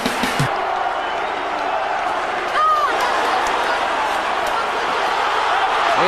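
A boxing crowd at the Eubank versus Calzaghe fight rises to its feet cheering, a steady, dense roar of voices filling the arena under a commentator's talk.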